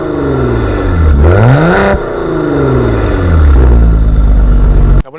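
A 2023 Maserati Ghibli Modena Q4 with a twin-turbo V6 revs loudly up close, climbing and falling sharply twice before a longer rising pull and a deep idle rumble, ending abruptly.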